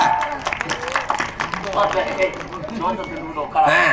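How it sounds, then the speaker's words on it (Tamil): Village audience clapping at an honouring ceremony with a shawl presentation, scattered claps and crowd murmur mixed with speech, fairly close and uneven in rhythm. "கைதட்டுங்க"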